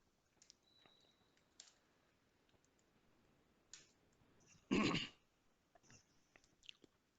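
Clicks from a computer mouse while creating a program in software: a few faint scattered clicks and one louder, sharper burst partway through, with a quiet background.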